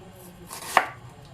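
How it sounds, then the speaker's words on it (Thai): A single knife chop through shallots lands sharply on a cutting board, with quiet room noise before and after. "เรามาหั่นหอมกันก่อนนะคะ"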